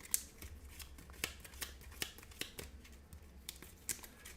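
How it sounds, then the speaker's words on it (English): A deck of game cards shuffled up close during a solo tabletop wargame session, a steady series of crisp riffling snaps and papery rustles spaced through the clip, no talk. "We do have to shuffle his deck."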